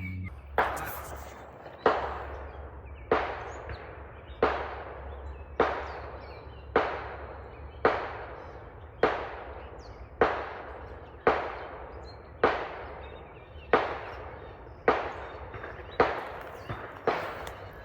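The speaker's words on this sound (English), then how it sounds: "Shots fired." Repeated gunshots ring out on the Appalachian Trail, roughly thirteen sharp reports at a steady pace about every one and a half seconds, each with a decaying echo through the woods, at moderate distance and with no talk.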